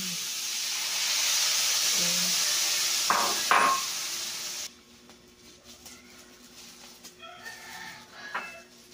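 A steady hiss of water sizzling in a hot pan of tuna escabeche for several seconds, then cutting off abruptly, leaving quieter clatter and faint background chirps.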